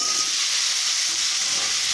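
Onions fry in a hot pan while being stirred, giving a steady, bright, close sizzle that holds evenly throughout the short stretch with no voices.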